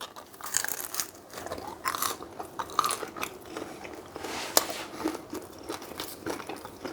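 Someone bites into and chews a crisp pizza made from frozen dough, with repeated crunchy bites and chewing in an irregular rhythm. The sounds are close but fairly quiet, with no talking.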